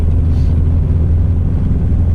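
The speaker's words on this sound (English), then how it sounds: "Take her for a drive on the new exhaust." Steady low engine rumble from the new exhaust of a Subaru STI being driven, deep and continuous throughout, with no speech over it.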